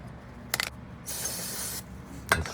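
Aerosol brake cleaner sprayed onto the front side of a brake rotor on a 2018 Hyundai Santa Fe 2.4L, a single hissing burst of under a second, framed by a few metallic clinks before and after.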